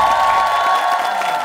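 A television studio audience applauding and cheering, a dense, loud wash of clapping that fills the whole short stretch without pause.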